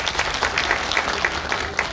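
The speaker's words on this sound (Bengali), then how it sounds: "আপনাদের সকলকে আমি অনুরোধ করব এই মেয়েটার জন্য একবার জোরে হাততালি দিন।" A seated audience at the Bongo Kriti Sanman awards ceremony gives brief, fairly dense applause, a steady patter of many hands heard at moderate distance.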